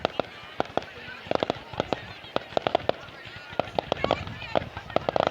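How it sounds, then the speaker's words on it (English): Bonfire night fireworks on the outskirts of Lewes crack and pop in a rapid irregular barrage, some loud and close, while a crowd cheers and talks. "So where's that now, where the fireworks are?"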